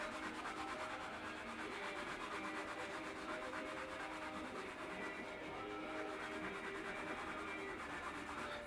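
Steady, close rubbing of a cleaning sponge loaded with paste scrubbing a car wheel rim, a continuous soft scraping swish that carries on alone at low volume.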